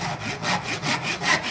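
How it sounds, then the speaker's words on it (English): A hand saw cuts through wood in steady, rasping back-and-forth strokes, close and loud, with about seven even strokes in quick rhythm. "When you start sawing the wood, make sure you go nice and slow to begin with"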